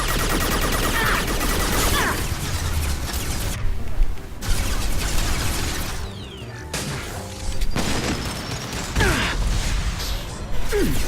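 Dense, rapid gunfire and explosive bursts from combat against YMIR mechs in the video game Mass Effect 2, sustained and loud throughout with brief lulls.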